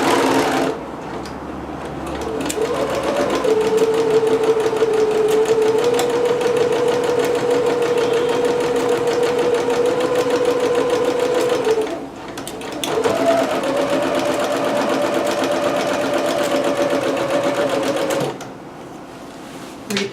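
Sewing machine stitching a large piece of dress fabric, running in two long, steady bursts of rapid mechanical whirring with short pauses between them, close and fairly loud.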